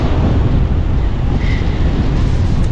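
Cold ocean waves wash up on a beach at Guarujá after rain, making a loud continuous rushing surf roar with wind buffeting the microphone throughout.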